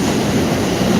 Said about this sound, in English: Oh, and sorry about the train.